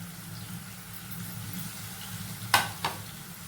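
Curry leaves sizzle and fry in hot oil for a mushroom curry, a steady low crackle throughout with two sharp spatter pops near the end, close by and alone.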